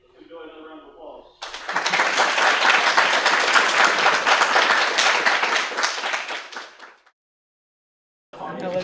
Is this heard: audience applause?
yes